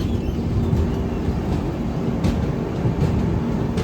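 A train rolls into Madgaon Junction in Goa, arriving at platform 2, heard from on board as a steady, loud, continuous rumble of wheels and carriage noise with faint rhythmic knocks and no talking.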